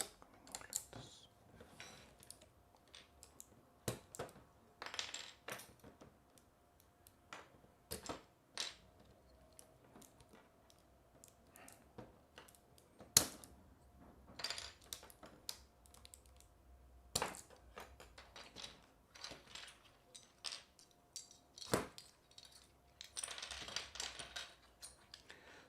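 Keycaps being pried off an ErgoCape keyboard build: sharp plastic clicks and snaps come in irregular bursts, near and fairly loud, with quieter rattles and taps between them and no talking.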